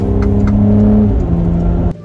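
A car accelerates in Sport Plus driving mode, heard from inside as a loud, steady engine drone that rises slightly and then cuts off abruptly near the end.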